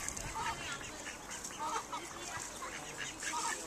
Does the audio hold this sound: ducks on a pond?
yes